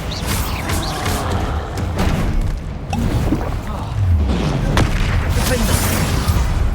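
The Bombarda explosion spell from the video game Hogwarts Legacy, heard as heavy booming blasts with a low rumble through a busy, continuous combat mix.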